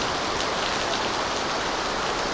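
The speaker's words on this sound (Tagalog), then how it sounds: "bumalik na naman ang ulan, malakas" Heavy typhoon rain pours down continuously in Barangay Lonoy, a dense, loud hiss of drops hitting surfaces with no voices.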